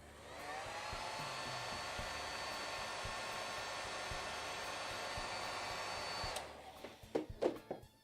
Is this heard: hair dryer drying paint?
yes